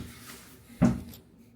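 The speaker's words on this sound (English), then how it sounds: "that knocking was our bags arriving" A single soft knock or thud sounds on a hotel room door at the Tokyo Disneyland Hotel as luggage arrives, brief and near, over quiet room tone.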